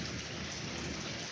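Steady rain falls outdoors under cloudy skies as a thunderstorm builds, a dense, continuous patter on surfaces that stays even and fairly close throughout, with no voices.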